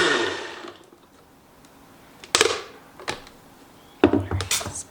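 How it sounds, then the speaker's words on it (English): A countertop blender whirring through a smoothie-like pantry mixture, starting with a loud spin-down, then short bursts of motor pulses and clunks near the microphone. "And blend it till it's smooth."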